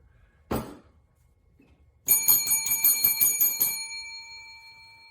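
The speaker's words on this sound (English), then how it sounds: "This is a service bell." Service bell struck repeatedly in a quick run of bright metallic dings that ring on and fade, preceded by a single dull knock.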